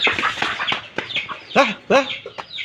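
Chickens cluck in quick, irregular bursts nearby, a few sharper calls standing out among the busy clucking.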